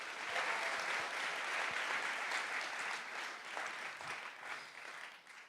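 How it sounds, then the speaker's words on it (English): Sustained audience applause fills a hackathon opening ceremony, a dense steady wash of many hands clapping that holds at full strength before tapering slightly near the end, with no talk over it. "So give a big round of applause"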